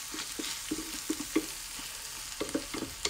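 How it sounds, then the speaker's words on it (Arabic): Onions cooking down in oil in a pan for a Moroccan tajine, with soft continuous sizzling and intermittent scraping stirs, close and alone with no talking. "خليت البصله حتى تشحرات مزيان مزيان"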